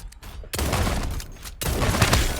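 Heavy gunfire from the Super Mecha Champions game bursts out in two dense, loud blasts, each rolling on for about a second with a short quieter gap between them and no talk over it.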